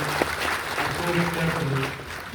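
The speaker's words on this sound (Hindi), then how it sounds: "ताली थोड़ी बाबा साहब के लिए जोरदार बज रही थी।" Audience applause at a lecture in honour of Babasaheb, steady broadband clapping filling the whole stretch with voices talking over it.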